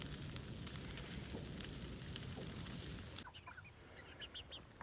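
Chickens on a small farm clucking during feeding time, with a steady broadband hiss of background noise. Near the end that noise drops away and a few short, distinct clucks stand out.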